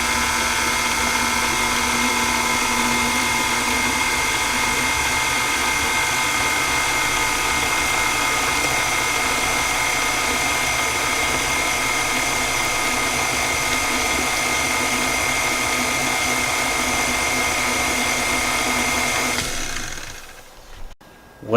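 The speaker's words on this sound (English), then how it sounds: "Then you're going to mix it on first speed only until it gets moist." An electric mixer whirs on its lowest speed through coffee cake batter, a steady mechanical motor hum with a faint gear rattle that holds even for about twenty seconds, then sputters and cuts off near the end.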